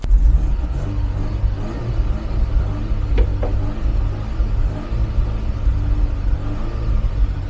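A 1982 Opel Kadett 1.2 estate runs at a steady low idle, giving a continuous close rumbling drone throughout with no voices.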